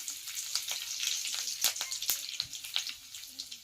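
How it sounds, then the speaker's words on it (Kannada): Cumin seeds and curry leaves sizzle and crackle in hot oil, a steady frying hiss broken by sharp pops and spits, close and fairly loud, with no talk over it. "ಇವಾಗ ಎಣ್ಣೆ ಕಾದತ್ ನೋಡ್ರಿ ಸ್ವಲ್ಪ ಶಾಸ್ಮಿ ಹಾಕ್ಲತ್ತ ನೋಡ್ರಿ ಒಂದ್ ಸ್ವಲ್ಪ ಜೀರಿಗೆ ಹಾಕ್ಲತ್ತನು ನೋಡ್ರಿ"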